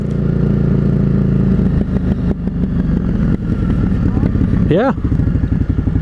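A KTM 890 Adventure R Rally motorcycle rides along with a steady, loud engine drone, a brief rising rev near the end, and a short spoken word over it.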